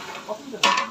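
A large pot of food being stirred and cooked overnight for an actors' association event, with a quiet scrape followed by a sudden louder burst of sizzling and stirring near the end, no talking.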